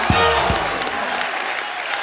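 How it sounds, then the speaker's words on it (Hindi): Studio audience applause at a comedy talk show taping, a dense steady wash of clapping that holds at a loud, even level for the full stretch, with a couple of low thumps near the start and no talking. "एक बार जोरदार तालियां।"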